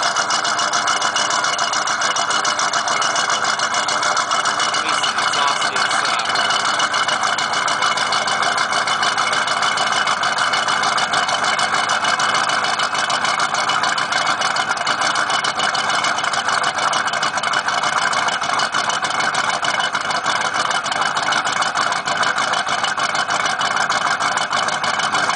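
A 1994 Ford Mustang GT engine idles steadily and loudly up close for the whole stretch, a constant running drone with a possible misfire, and no talking over it.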